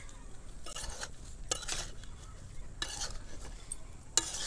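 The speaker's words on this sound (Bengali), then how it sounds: "একবার নেড়ে দিচ্ছি এইভাবে" Hot chopped ash gourd is turned in a pan, with a few scraping stirs and clinks of the utensil against the metal over a soft sizzle.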